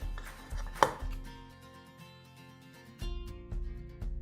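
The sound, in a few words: chopping chives with a knife in a bowl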